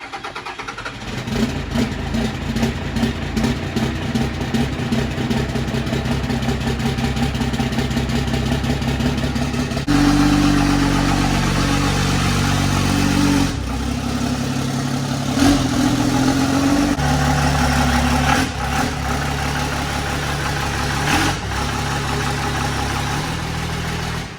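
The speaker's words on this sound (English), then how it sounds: "It's a cold start." A Cummins diesel engine cold starts and settles into a loud, steady idle with a rough, throbbing rumble that runs continuously throughout, with no voices.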